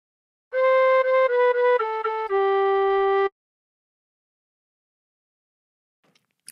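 Short La Cucaracha phrase on tin whistle: several quick tongued notes then a longer held lower note, clear and close, followed by silence and a faint noise at the end.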